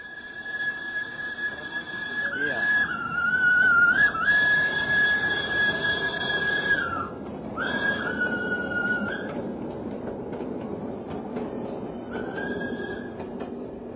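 A steam tram in Surabaya, Indonesia sounds a loud, sustained whistle over a steady rumble of running rails and wheel squeal, fading and returning in long steady blasts.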